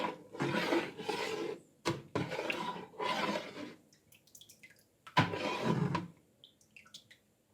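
A spoon stirs a thick mix of yogurt and fruit in a series of broad scraping, wet rubbing strokes, fairly close and steady, with a pause before a final round of mixing.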